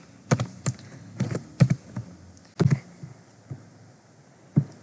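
Typing code on a computer keyboard for PHP date functions, with a run of clustered key clicks in irregular bursts and a few isolated taps, close and distinct with no talking.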